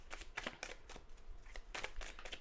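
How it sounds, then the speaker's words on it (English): Close, quiet riffling bursts of a tarot deck being shuffled during a live astrology reading, a few quick papery flutters in succession with no voice over them. "we are going now into the shuffle"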